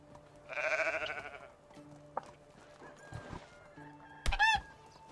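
A couple of quavering sheep bleats from the game Medieval Dynasty, one early and one near the end, amid clip-clop steps and other soft farm sounds.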